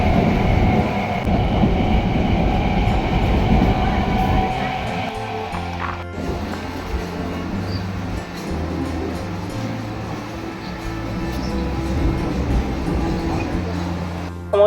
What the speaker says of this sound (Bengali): আমাদের ট্রেন অবশেষে মাঝদিয়া স্টেশনে থামলো।